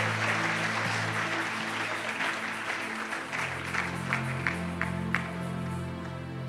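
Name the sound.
applause, hand clapping for the Lord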